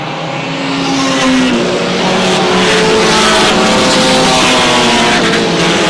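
Race cars roaring around an oval track, several loud engines droning at high revs with pitch shifting as they pass close by, building in volume and continuing steadily.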